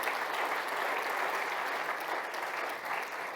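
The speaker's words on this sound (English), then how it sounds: "you can do a round of applause" Conference audience at a cyber security event in Jersey gives a steady, even round of applause, a continuous wash of many clapping hands heard from a short distance without a break.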